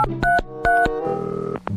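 Telephone keypad tones as a number is dialed: a few short, loud paired beeps in a quick uneven rhythm, then a longer held tone, close and clear with no talking.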